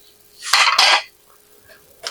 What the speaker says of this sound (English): I'm going to get one of my crock pans. Let me move this plate.